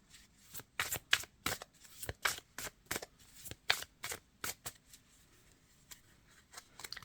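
A tarot card deck is shuffled close up, giving a rapid series of crisp riffling bursts that trail off into a few softer flicks near the end.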